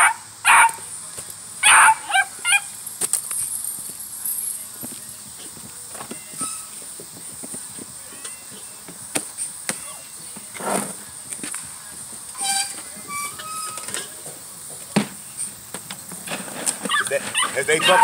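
Dogs bark and yip in short scattered bursts, fairly close, with a person talking on and off and footsteps shuffling in between.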